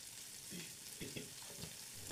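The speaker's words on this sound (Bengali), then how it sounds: "ঝিঙেটা দিয়ে আরও বেশ কিছুক্ষণ এটা ভেজে নিচ্ছি।" Pumpkin and ridge gourd fry in a pan, a soft steady sizzle with a few faint scrapes of stirring, quiet and close.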